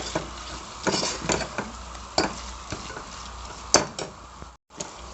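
Tomato masala for a mutton curry stirred in a pan, with a steady hiss of frying under repeated close scrapes and clinks of a spoon against the metal.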